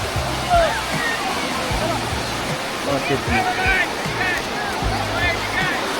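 Sea waves washing in steadily at New Digha beach, a continuous close wash of surf and sloshing water that fills the whole stretch without pause.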